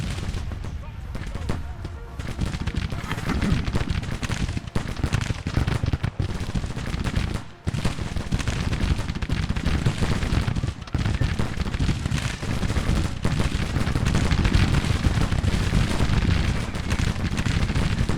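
Civil War musket gunfire rages in Grand Tactician, a dense continuous crackle of massed rifle volleys that stays loud and unbroken throughout, with someone talking over the din.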